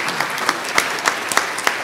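An audience at a live-streamed IWMF education forum on Waldenstrom's macroglobulinemia breaks into applause, a steady patter of many hands clapping with a few sharper claps standing out, fairly close and continuous throughout.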